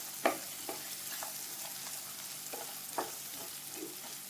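Tomatoes stirred and frying in a pan for Chinese idly, a steady soft sizzle broken by several light scrapes of the spoon, close and alone.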